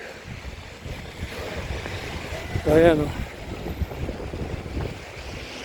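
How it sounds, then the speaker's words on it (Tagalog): Strong wind gusts during the first snowfall in Toronto, rumbling and buffeting the microphone in a steady roar, and a person's voice briefly breaks through midway. "Lakas ng hangin."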